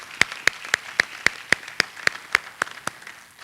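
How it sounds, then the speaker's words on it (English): At a commemoration event, applause comes as a steady series of about a dozen crisp, evenly timed claps, fairly close and isolated against a quiet background. "We'll give him a round of applause anyway."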